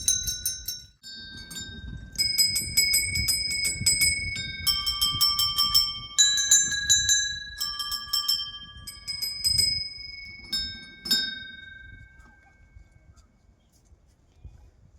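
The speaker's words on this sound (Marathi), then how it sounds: "हे पहा एकदम घंट्या बिंट्या खूप आहेत" Many bells ringing at a Hindu temple beside a pond, bright overlapping metallic strikes repeating steadily for most of the stretch before thinning out, close and fairly loud.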